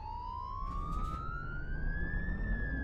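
An ambulance siren in the truck-driving game Euro Truck Simulator 2 wails as one long, steadily rising tone over a low engine rumble, loud and clear with no talk.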